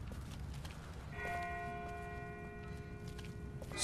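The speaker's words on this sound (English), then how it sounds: "That's not the same bell as before. This one's further off." A distant bell rings with steady sustained tones in The Walking Dead video game, faint and alone over a low background rumble.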